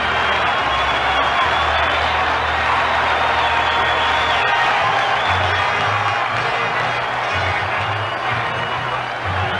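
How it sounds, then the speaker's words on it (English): Stadium crowd at the 1976 World Series, Reds at Yankees, applauding and cheering Thurman Munson as he comes up to bat, a dense continuous roar of clapping and shouts, loud and sustained throughout. "Should get a nice hand from this crowd."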